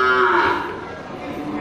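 A Simmental cow lets out a single close, loud moo that sweeps downward and fades into a low drawn-out tail, set against a busy livestock pen.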